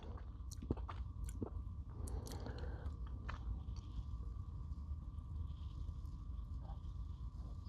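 Crumbl caramel apple cookie being bitten and chewed close up, soft moist squishy chewing sounds at low volume, a few crisper bites early, with no talking.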